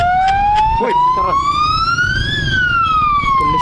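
A police car siren wails loudly and close by in a steady rising and falling sweep, with faint road noise beneath it during a Philippine roadtrip.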